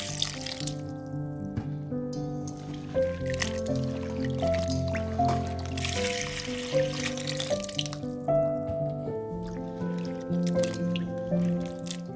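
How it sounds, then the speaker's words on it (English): Thai eggplants are rinsed in water, with soft sloshing and dripping close by. Faint tonal music plays underneath throughout. "Give them a few good rinses"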